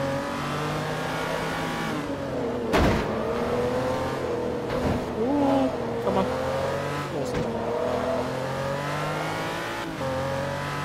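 A race car engine in Forza Motorsport 3 revs and strains continuously at high volume, with shifts in pitch as it accelerates and brief tire squeals during a hard racing lap.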